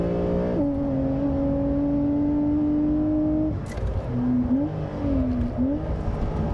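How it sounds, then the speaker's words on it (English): A Porsche 911's flat-six engine holds a steady, sustained drone, then drops away before its pitch swings up and down in a few short revs. It is heard alone, with no talking. "And the flat 6 engine note"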